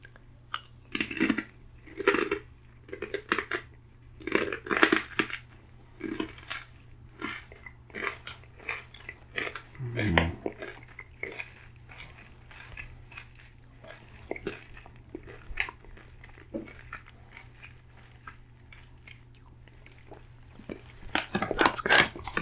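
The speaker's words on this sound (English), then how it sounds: "Okay, here comes some crunching." Close, loud crunching from bites of limited edition real vegetable chips, with repeated sharp, irregular crunches and chewing bursts spread across the stretch and a dense cluster near the end.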